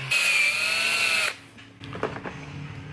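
A handheld power drill whines loudly and steadily for about a second, then stops, leaving quieter workshop clatter and scraping in the background.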